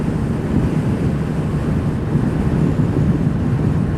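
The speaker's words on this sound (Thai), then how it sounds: "ลมแรงจัด" Strong, steady wind roars across the microphone while riding a stock Honda PCX scooter fitted with 17-inch wheels and an aftermarket exhaust at high speed, a loud continuous rumbling buffet with no speech.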